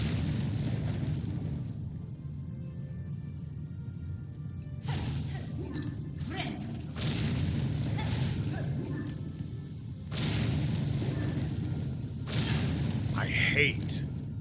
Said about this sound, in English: how wide the range on that explosion is.